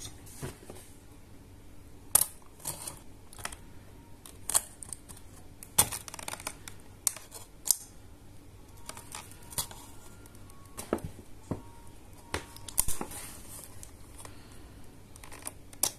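Cardboard box of a Mini GT Bentley Flying Spur model car being opened by hand, with scattered crisp taps, scrapes and rustles in uneven bursts, close and fairly quiet, with no talk.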